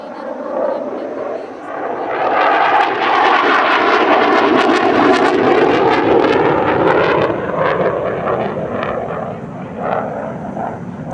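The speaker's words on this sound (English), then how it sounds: "Here's another Chinese-designed aircraft, the JF-17A Thunder." A PAC JF-17A Thunder fighter jet flies past at the Dubai Airshow 2023, its engine roar swelling from a distant rumble into a loud, sustained pass and slowly fading, with a voice talking over it.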